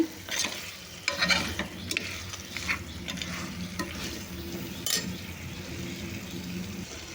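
Mutton trotter curry pieces being stirred and tossed with chili powder and salt in a sizzling pan, with steady frying hiss and repeated scraping and clinks of the spoon against the vessel, close and moderately loud.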